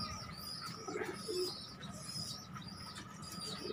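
Pigeons in a winter breeding setup coo softly and intermittently amid faint chirps and rustling, all quiet and somewhat distant over a low background hum.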